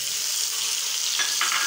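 Whole spices such as cardamom frying lightly in oil in a pan, a steady close hiss of sizzling with a couple of faint stirring scrapes near the end.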